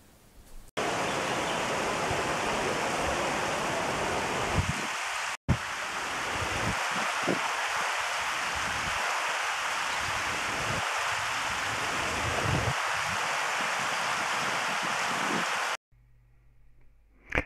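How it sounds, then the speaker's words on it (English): The Mulcair River flowing through Maru, a dense continuous rush of water heard close and steady for most of the stretch, with no voices, cutting off abruptly near the end. "Gordon focuses on the Mulcair River, of which over 5 miles passes through Maru."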